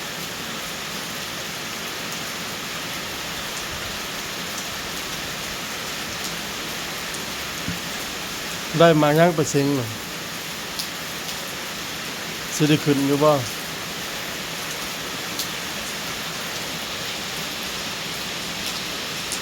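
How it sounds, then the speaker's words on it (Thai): Heavy daytime rain falls steadily throughout, with two brief bursts of speech partway through. "นั่งคอยฝนเลยมื้อนี้พี่น้องเอ้ยนั่งเบิ่งฝนตก"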